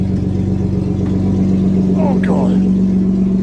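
A Nissan car with no exhaust runs close by, a loud, steady low drone as it is driven into a shop without power steering, with a brief spoken exclamation partway through.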